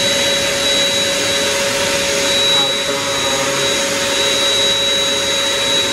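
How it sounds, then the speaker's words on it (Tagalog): A vacuum cleaner powered by a 3 kW 24-volt toroidal off-grid solar inverter runs continuously with a steady, loud whine and airy roar, close up and unchanging. "sunod natin yung vacuum cleaner. Medyo maingay lang yun"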